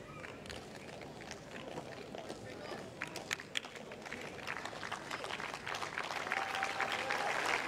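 Applause from a tennis crowd after a tight point in Grigor Dimitrov versus David Goffin at 10-9; steady, moderately distant clapping builds slightly toward the end, with faint voices beneath.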